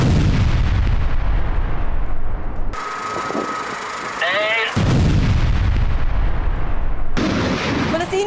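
Bombing in Gaza, heavy artillery blasts and rumbling explosions in news footage, loud and repeated, broken by short quieter stretches that carry a faint tone and a voice.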